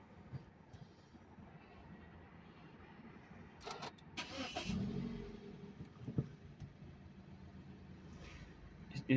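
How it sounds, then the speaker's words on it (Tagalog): A car engine is started at a gas station after Liqui Moly fuel additive is added. A short burst of cranking in the middle settles into a low, steady idle, with no one talking. "i-start natin yung engine mga at least"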